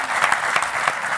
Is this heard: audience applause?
yes